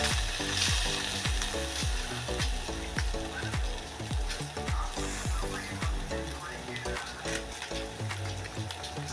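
Slices of giant taro (mankochu) fry in hot oil with a continuous crackling sizzle, punctuated by a steady run of sharp clicks and taps from stirring, close and clear, with no voices.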